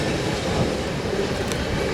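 A train passes close by at trackside, filling the whole moment with a loud, steady rumble and rolling wheel noise.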